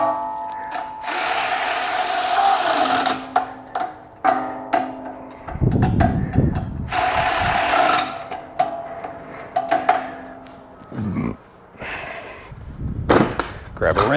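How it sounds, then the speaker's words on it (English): Electric ratchet spinning fasteners on a Bennche 800 motor during an engine install, several loud whirring bursts of a few seconds each separated by clanks and knocks of tools, close by. "electric ratchet."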